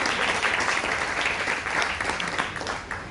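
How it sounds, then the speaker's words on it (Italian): Audience applause at a theatre festival, a dense, loud, continuous roar of many hands clapping with no gaps, lasting about three seconds. "un bel applauso"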